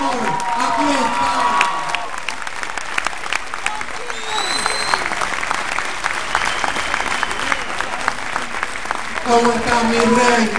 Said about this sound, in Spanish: les pido un fuerte aplauso para Coqui, la reina